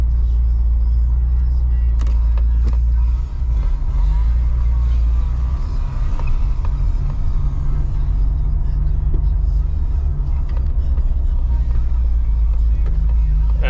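A car with a 6-speed manual and meaty tires launches hard, engine roaring loud and steady as the tires break loose and spin through first and second before gaining traction.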